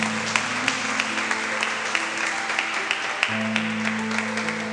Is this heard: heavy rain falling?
no